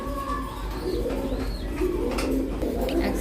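Pigeons coo in a low, repeated murmur, several birds close by with a faint higher chirp mixed in, steady and without talk.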